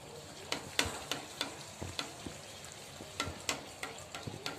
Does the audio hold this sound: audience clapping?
no